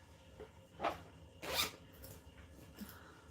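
A zipper on a sewn fabric clutch bag is pulled in two quick, quiet zips, the second a bit longer, with soft handling rustles afterward in a hushed room.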